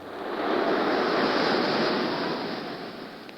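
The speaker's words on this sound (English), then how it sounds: "heavy seas, mountains of oily green water swooping up, and then down again" Heavy seas as a 1930s radio drama sound effect: a broad, roaring wash of ocean surf swelling up and slowly receding, loud and steady, with no voices.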